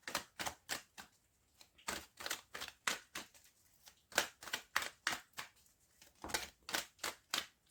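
Tarot cards are shuffled and drawn, making a quiet, steady run of short papery riffles and snaps, close by and alone, with brief pauses between groups.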